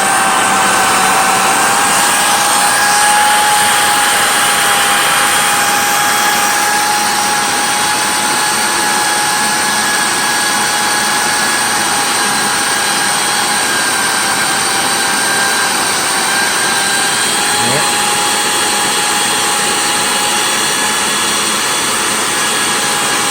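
A Miele Callisto S5281 canister vacuum cleaner runs steadily through an airflow test, a loud, continuous whine with a high-pitched tone throughout and no speech.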